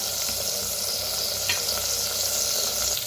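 Onion roasting in oil inside a clay pot, a steady moderate sizzle with faint stirring clicks, close and continuous with no voices.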